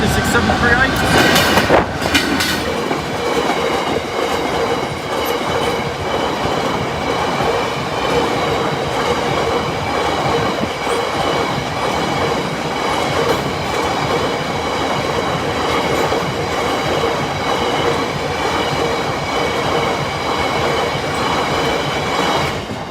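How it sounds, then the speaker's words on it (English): A train passing a level crossing with lowered barriers, starting with a sharp clatter and then a loud, steady rumble of wheels on rails for the whole stretch, close by. "the first train is only just approaching"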